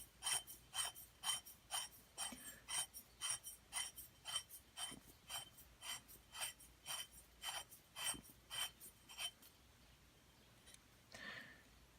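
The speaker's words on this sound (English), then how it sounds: "Screw the tank back onto the valve, or the valve back onto the tank" A paintball CO2 tank being screwed back onto its valve, a steady run of rhythmic ratcheting metal scrapes at about two per second, close and clear, before falling quiet near the end.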